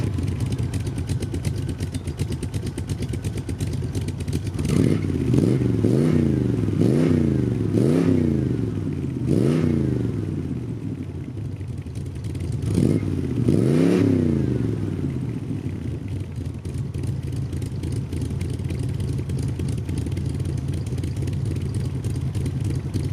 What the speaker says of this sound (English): let's go and start her up. This is the best bit because this car sounds awesome